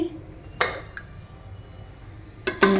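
A metal spoon stirs dal with turmeric in a cooking pot. Two clear metallic clinks and scrapes come up close, one near the start and one near the end, with quiet between them.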